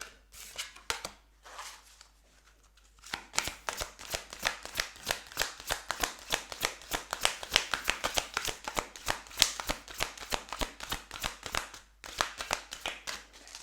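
Tarot cards being shuffled by hand, a rapid stream of crisp riffling flicks and slaps that runs steadily for most of the stretch after a quieter start, close and fairly soft, with no talking.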